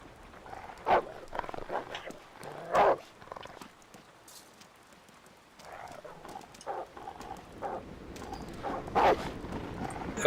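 A dog attacking in the video game Dreamfall: The Longest Journey in a Venice setting, with several sharp barks and snarling bursts over game footsteps and ambience, close and moderately loud.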